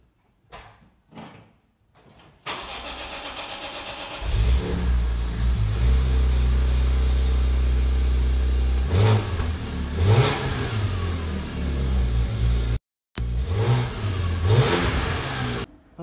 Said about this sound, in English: I'm not going to rev it up too much here because it's a cold start, but it'll give you some idea of the exhaust.